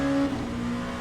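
An LMP2 prototype race car in the Le Mans Ultimate racing game drops a gear, the steady engine note stepping down abruptly into a lower, rougher drone within one second.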